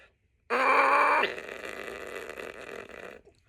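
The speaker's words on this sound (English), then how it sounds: "So that's me pressing my lips together and trying to squeeze air out." A strained, buzzy squeeze of air forced through tightly pressed lips, loud at first, then settling into a rougher, breathier hiss before fading out.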